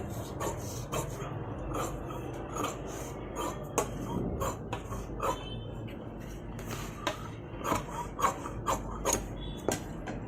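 Scissors cut a cross piece of fabric for blouse doris at a sewing table. Crisp snips and clicks come up close at an uneven pace over a low hum, with no talk.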